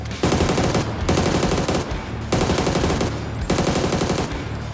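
Assault rifle fire on a PUBG training range in the video game comes in long sustained automatic bursts, loud and close, separated by brief pauses, with no talking.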